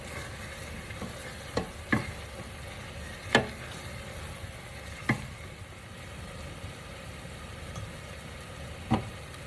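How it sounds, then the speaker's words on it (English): Onions sauté in a pan for a keto tomato bisque, giving a steady low sizzle broken by a handful of sharp utensil clicks against the pan, each spaced a second or more apart. "Then you will just stir and allow those onions to become translucent, but even just a tad bit on the caramelized side as well."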